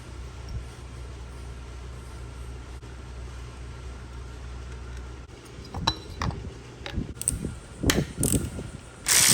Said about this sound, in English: I put the Allen wrench piece in there and use a 1/4 inch wrench, box end wrench